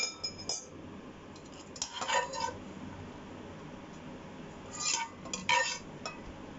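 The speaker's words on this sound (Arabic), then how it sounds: "بعدين بنبدأ نحط المعكرونة ونخلطها" Pasta being mixed in a bowl with flour, giving light clinks and scraping taps of utensil against the bowl in a few short irregular clusters over a quiet background.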